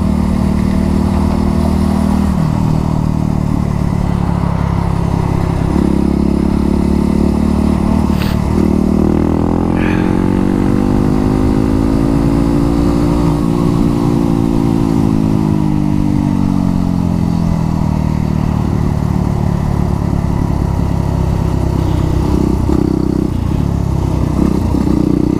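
A sport motorcycle engine idles loudly nearby, then revs up and eases back down in a long smooth swell, with a steady mechanical clatter throughout.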